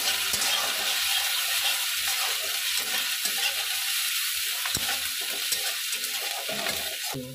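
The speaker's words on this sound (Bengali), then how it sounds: "এবার একটু খুন্তি দিয়ে নাড়াচাড়া করে নেবো" Spatula stirring mixed vegetables frying in a pan for restaurant-style mixed fried rice, a continuous sizzle with scraping strokes and occasional metallic clinks, close and steady with no talking.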